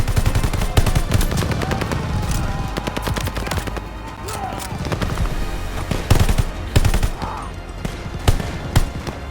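Dense, loud machine-gun fire rattles almost continuously in a Call of Duty Vanguard battle on Operation Tonga, with rapid bursts layered over rumbling explosions and general combat din throughout.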